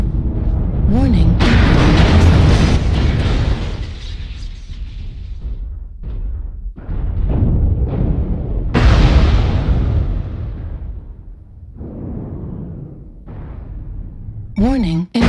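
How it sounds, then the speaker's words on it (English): Incoming missile strikes and a weapon explosion on a mech in a combat video game, a series of loud heavy blasts and booms with a synthetic voice talking between them. "Warning, incoming missile. Airstrike online. Weapon explosion detected."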